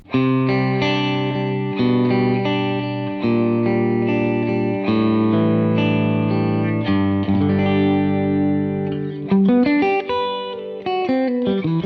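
Electric guitar played through a BadCat Cub amp on a clean, Vox AC30-like setting, chords and arpeggios ringing with some effect shimmer, continuous and fairly loud, with no voices.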